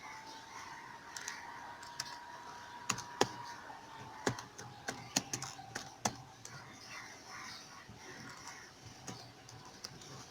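Fingers type on a computer keyboard, with irregular bursts of sharp clicks clustered in the middle and thinning out toward the end, quiet and close in a calm room without speech.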